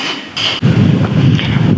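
Gusts of wind buffet the microphone in Connemara National Park, Ireland, producing low, uneven rumbling bursts with no one speaking.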